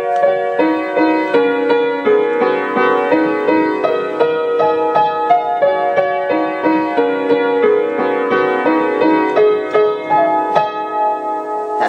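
Solo piano plays a few bars of a piece from Twilight, a steady stream of clear melodic notes over sustained harmony, close and even in volume throughout with no talking.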